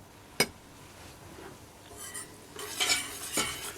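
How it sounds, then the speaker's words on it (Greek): A utensil stirs flour into olive oil in a pot while making béchamel over medium heat, giving a few sharp metallic clinks and scrapes, then a soft frying sizzle that swells toward the end. "Θα το σοτάρω ώσπου να φύγει η αλευρίλα"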